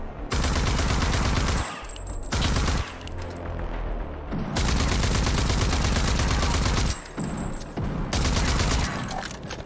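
A machine gun rattles in Rage 2, firing long, loud, continuous bursts broken by short pauses, very close and harsh, with a game soundscape behind it.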